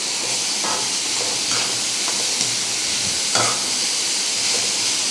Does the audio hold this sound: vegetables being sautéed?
yes